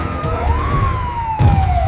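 A human voice imitates a police car siren, a wavering wailing tone that rises and falls in pitch, loud and close, with a short break before the wail resumes.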